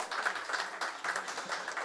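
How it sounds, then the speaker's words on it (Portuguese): Faint applause from a seated audience at an innovation governance panel event, a brief patter of clapping that dips once midway and then resumes, heard alone. "Uma salva de palmas para o Marcos Vinícius."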